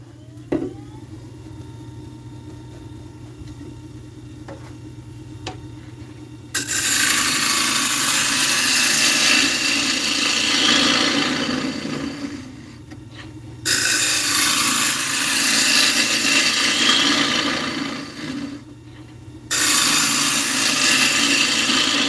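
A sharpened bowl gouge cuts acacia wood spinning on a lathe in three long, loud, rasping passes, separated by brief pauses where only the low motor hum remains.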